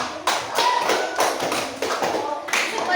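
Fifth-grade pupils in an elementary school classroom clap for a group, with several loud bursts of applause in quick succession, close by and filling the room.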